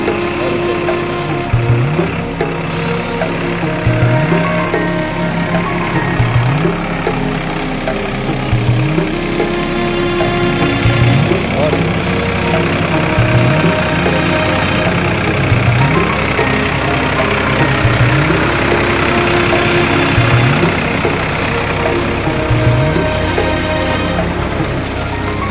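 Tractor ploughing a paddy field, its engine running steadily with a low drone and regular rhythmic thumps repeating every couple of seconds, loud and close throughout.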